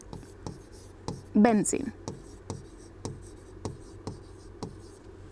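Quick strokes of writing on a board form a brief burst during a chemistry lesson, with a teacher's voice speaking around it.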